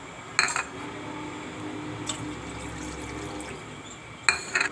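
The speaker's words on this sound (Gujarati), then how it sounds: "તો આપણે આ બે વાટકા પાણી આમાં નાખશું સાહણી બનાવવામાં" Two bowlfuls of water tipped into a pan to start sugar syrup for semolina gulab jamun, brief clinks of metal bowls against the pan at the start and end around a soft, steady pouring sound, close by, no talking.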